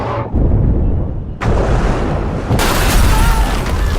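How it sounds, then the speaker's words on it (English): Deep booming impacts and crashing rumble as the superhero Invincible is punched through Chicago buildings in the animated show; two loud, sudden bursts of heavy destruction follow one another, filling the scene with sustained roar. "this is Invincible getting punched through Chicago"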